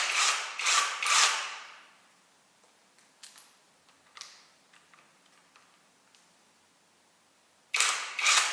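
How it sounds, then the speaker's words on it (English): Hex key loosening the brake lever screws on an Arctic Leopard XE Pro R scooter, heard as a few faint, sparse metallic ticks and clicks in a quiet room between louder rustling bursts at the start and end. "Use a 6mm hex tool and loosen the screws of the brake lever."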